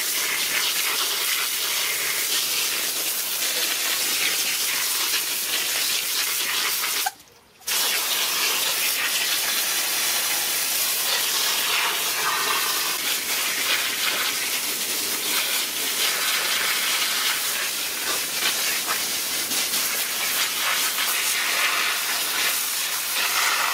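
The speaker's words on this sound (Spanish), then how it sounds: "Y ahora vamos a pasar al lavado de las raíces. ¿Cómo? Pues muy sencillo, con agua a presión" A pressurized water jet blasts over the roots of a ficus bonsai during repotting, giving a loud, continuous hissing spray that breaks off briefly for a moment partway through and then resumes steadily.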